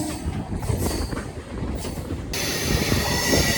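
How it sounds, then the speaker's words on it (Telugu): A Kakinada Port - Vijayawada MEMU Express slowing at the Vijayawada outer rumbles and clatters loudly on the rails, with a steady high wheel squeal rising in the second half. "ఓహో, విజయవాడలో అవుటర్ దగ్గర స్లో అయింది బండి."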